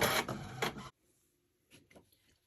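An HP printer printing planner inserts, a loud close mechanical whir and feed clatter for almost a second, then quiet, followed by a few fainter clicks and rustles.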